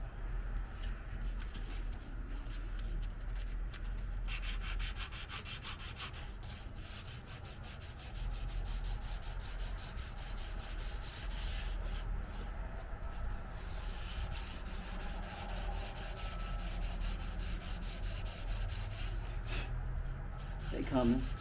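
Steady rubbing strokes of hand sanding on a car body, working out deep imperfections without a block; continuous scraping close up with brief pauses and a faint low sound near the end.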